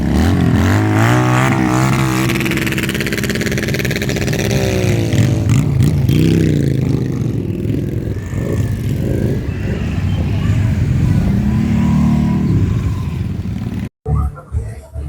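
Loud field bike motorcycle engines rev and drone steadily as they ride past in procession along a road in Jaffna, with a voice talking over the noise.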